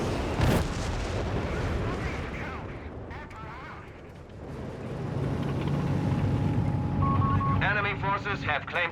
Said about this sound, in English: the staggering amount of artillery unleashed by the Allies upon one Flak 30